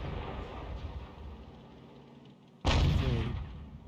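A 105 leFH18B2 self-propelled howitzer in a tank video game fires a single loud, close round, a sharp blast with a rumbling tail that follows quieter engine and ambient rumble.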